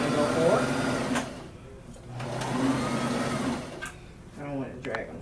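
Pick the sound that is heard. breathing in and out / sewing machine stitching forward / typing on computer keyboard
sewing machine stitching forward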